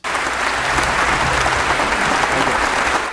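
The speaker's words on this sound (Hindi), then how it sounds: "ऑस्ट्रेलिया की पूरी प्रतिनिधि सभा भारतीय प्रधानमंत्री नरेंद्र मोदी के सम्मान में तालियों की गड़गड़ाहट से गूंज उठा" Thunderous applause fills Australia's House of Representatives in honour of Indian Prime Minister Narendra Modi, a dense, loud, continuous wave of clapping from the whole chamber.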